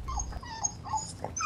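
A dog in the video game The Division, with a few short whimpering, yipping sounds heard at moderate distance over steady low game noise.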